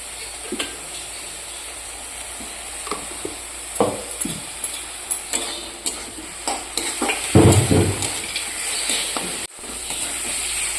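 Ground spices and mutton fat frying in a pan as they are stirred hard for ghugni, a hissing sizzle broken by repeated scraping stirs and clinks of a spoon, growing louder near the end, without talk.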